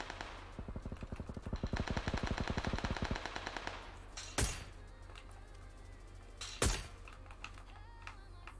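Rapid video game gunfire rattles off in a sustained automatic burst, followed by two sharp, isolated shots spaced a couple of seconds apart, with no talk over it.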